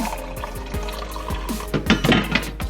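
Milk poured into coffee in a thermos-style cup, a soft liquid trickle and gurgle with faint clinks, close and fairly quiet, with no talking.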